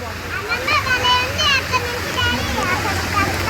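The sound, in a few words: waterfall at an amusement park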